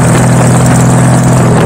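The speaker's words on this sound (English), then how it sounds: "With its flat six engine, I know it sounds like it does" Flat-six engine of a custom Honda Valkyrie bobber motorcycle, a loud, close, unbroken drone with a strong low hum.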